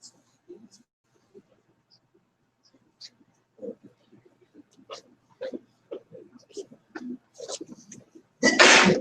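A single loud sneeze bursts out at the end, close and abrupt, following a stretch of quiet, scattered speech.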